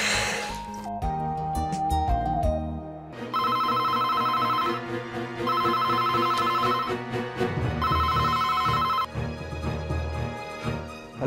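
A landline telephone rings in three repeated bursts of electronic trilling, loud and close, layered over dramatic background music in a household scene.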